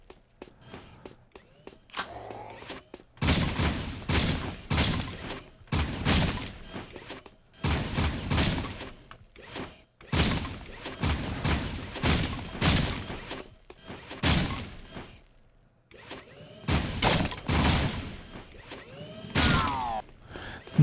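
Gunfire in the action video game Jak II comes in dense, loud bursts of rapid shots separated by short quiet gaps, repeating several times.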